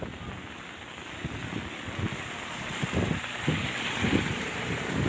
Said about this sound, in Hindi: पानी का बहाव